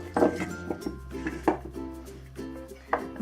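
A knife slicing trimmed asparagus diagonally in half on a cutting board, four crisp separate chops about a second apart, close and clear over a low steady hum.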